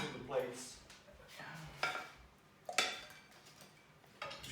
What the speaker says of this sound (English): Bread is done, and just go directly and put it onto the plates.